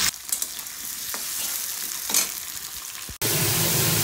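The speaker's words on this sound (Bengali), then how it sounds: "আলু ভাজতেছি, মাছ ভাজা হয়ে গেছে" Potatoes frying in a pan in a home kitchen, where fish has already been fried: a steady oil sizzle with a few scraping stirs, close and continuous, followed by a louder, brighter hiss.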